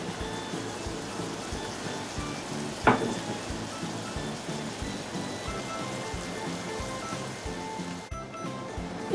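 Garlic and a cauliflower rice mixture sizzle in a pan, crackling steadily up close with a sharp clink near the start and a short break near the end.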